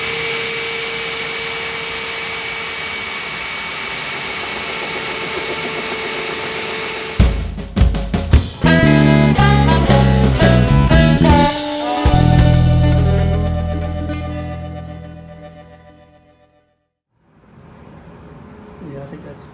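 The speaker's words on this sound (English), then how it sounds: "And we'll finish drilling all the way through." A power drill fitted with a Forstner bit boring through a pine guitar body for bridge placement; a steady motor whine gives way to stuttering, grinding cuts as the bit bites, then winds down and briefly restarts.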